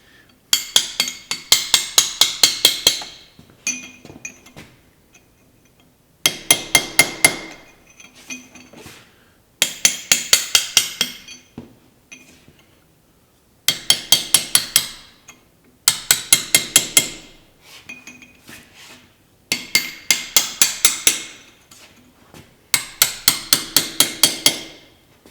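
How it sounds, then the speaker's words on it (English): A hammer strikes chiselled nut edges flat during restoration of an International Farmall Super H tractor: ringing metallic blows in rapid bursts of about six to ten hits, separated by short pauses, close and loud. "I'll come back with the hammer and I'll flatten it out onto the flat side of the nuts."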